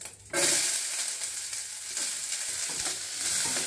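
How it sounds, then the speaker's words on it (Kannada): Onion dropped into hot oil with mustard seeds and curry leaves gives a sudden loud sizzle that holds steady as a continuous crackling hiss, close up, with faint stirring. "ಎಣ್ಣೆ ಬಿಸಿ ಆದ ತಕ್ಷಣ ಸಾಸಿವೆ ಹಾಕ್ತಾ ಇದ್ದೀನಿ, ಕರಿಬೇವು ಸೊಪ್ಪು ಹಾಕ್ತಾ ಇದ್ದೀನಿ. ಆದ ತಕ್ಷಣ ಈರುಳ್ಳಿ ಹಾಕ್ತಾ ಇದ್ದೀನಿ."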